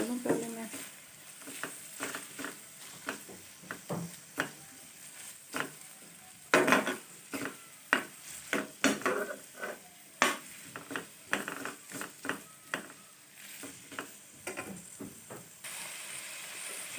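Boneless chicken filling with chilli sauce and soy sauce sizzling in a pan, steady frying hiss with frequent stirring clacks and scrapes of utensil on the pan, close up.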